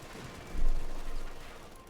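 Machine gun fire crackles in a Company of Heroes 2 battle, a short, fairly faint burst of rapid shots over dense game ambience.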